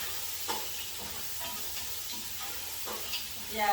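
Mixed vegetables for a seafood fried rice sizzle in a pan while being stirred, a steady quiet hiss broken by soft periodic scrapes of the spatula, with a brief voice near the end.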